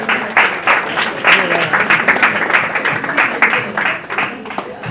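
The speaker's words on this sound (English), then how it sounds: "A round of applause for him, please." Audience applause after a talk on the coconut value chain, a loud, dense burst of clapping that rises and falls in waves, with scattered voices beneath.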